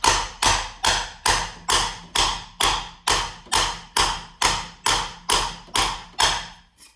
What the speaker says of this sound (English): I have a fish whacker wooden mallet I've been trying to use